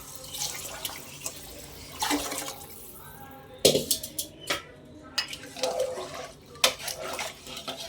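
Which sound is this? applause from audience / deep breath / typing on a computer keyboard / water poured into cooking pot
water poured into cooking pot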